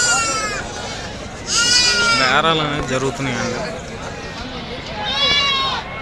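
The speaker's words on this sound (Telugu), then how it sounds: "నాటు గొర్రెలు అండి" Native sheep bleat at a livestock market in Vinukonda, several harmonic calls rising out of crowd noise, with someone talking over them.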